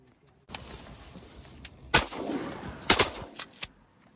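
Shotgun blasts during a public-land duck opener in Oklahoma: a few loud outdoor reports, one strong shot followed by a quick pair and a couple of lighter pops, with wind noise between them.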